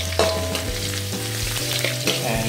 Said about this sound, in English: And put the garlic in the pan.